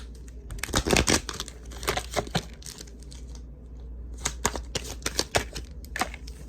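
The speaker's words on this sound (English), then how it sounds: "Get a couple of oracle cards for some of you." Oracle cards being shuffled by hand in a quiet room: irregular bursts of crisp riffling and crinkling, heaviest near the start and again toward the end, with a short lull in the middle.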